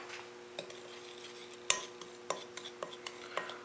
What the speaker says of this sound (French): Et à l'aide de la cuillère, on va mélanger les ingrédients solides.